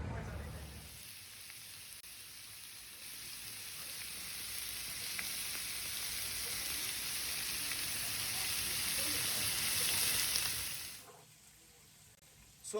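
Beef short ribs in gochujang sauce sizzling steadily in a hot pan, a dense close crackle that swells slightly before cutting off near the end.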